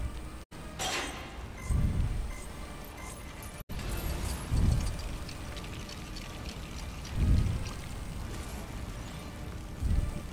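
Water pouring in the Lego Batman 3: Beyond Gotham video game, a continuous splashing wash with low gushing surges recurring every couple of seconds, steady and fairly loud throughout.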